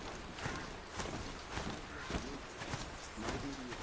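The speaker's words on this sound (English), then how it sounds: "Jungle birds sound so nice." Jungle birds in the video game Horizon Zero Dawn call and coo softly in the background while hooves clip-clop steadily as a mount rides along, with everything kept low and ambient.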